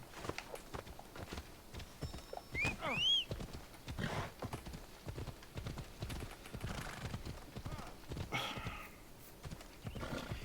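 Horse hooves clip-clop at a steady walking rhythm in the video game Assassin's Creed Odyssey, joined by a brief whinny, with ambient game sounds around the riding.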